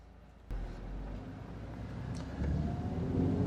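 A 2016 Audi TT roadster's engine hums under way, a low steady drone that steps up suddenly early on and grows louder again near the end as the car pulls, with road rumble and no talking.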